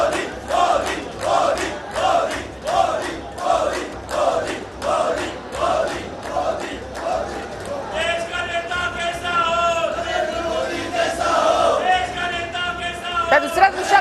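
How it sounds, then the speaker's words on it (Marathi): BJP party workers celebrate a legislative council election win outside Vidhan Bhavan, with a loud crowd chanting slogans in a steady rhythmic call-and-response before the chant breaks into sustained cheering and shouting. "त्यामुळे सेलिब्रेशन भाजप नेत्यांकडून, कार्यकर्त्यांकडून आता बघायला मिळत आहे"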